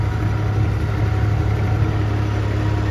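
A tractor engine idles in a field during soybean sowing with a bed planter, a steady, loud low rumble held close and constant with no speech.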